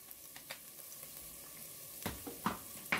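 Onions fry quietly in a pot for dairy-free cheddar broccoli soup, a soft steady sizzle broken by a few louder scraping stirs toward the end.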